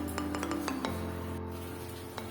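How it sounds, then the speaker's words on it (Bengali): Chopped cashew nut pieces scattered into a pan of banana-flower ghonto, giving several light clinks and taps over a steady low kitchen hum, fairly close and moderately quiet. "আগে থেকে কুচিয়ে রাখা কাজু বাদামের টুকরোগুলো ছড়িয়ে দেবো।"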